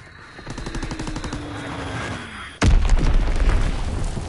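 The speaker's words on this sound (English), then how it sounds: "Dropping Fritz X bomb." A Fritz X guided bomb drops and detonates in a World War II video game: steady machine-gun fire rattles on, then a sudden loud blast crashes in and leaves a rumbling, crackling roar under continuing gunfire.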